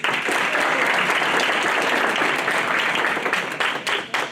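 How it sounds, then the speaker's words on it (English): An audience at a readathon event gives a sustained round of applause, a loud, dense wash of clapping that thins out with a few final claps near the end. "Let's give them a round of applause."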